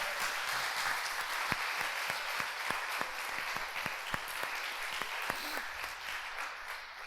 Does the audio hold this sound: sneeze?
no